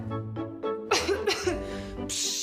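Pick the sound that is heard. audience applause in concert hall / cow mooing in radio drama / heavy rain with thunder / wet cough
wet cough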